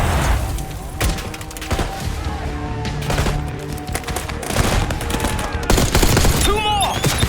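Sustained covering gunfire in the Call of Duty Black Ops 6 video game, a dense run of sharp shots and bursts over a loud battle bed, with some voices in the mix.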